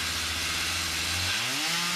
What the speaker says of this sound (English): Starts to cut his lumber.